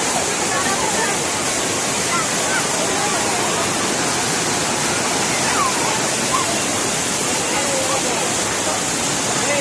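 Edmuru Falls on a Bengaluru-to-Mysuru day trip, its rushing water roaring as a steady, loud, broadband wash that fills the whole stretch without a break, with faint voices only barely present beneath it.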